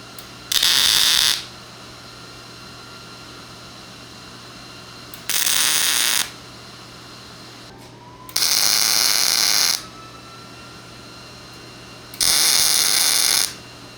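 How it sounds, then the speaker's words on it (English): Welding a piece onto a round bale feeder: four separate bursts of harsh, crackling hiss, each about a second long, close and loud, separated by several seconds of quiet. "We'll go ahead and get this piece welded on."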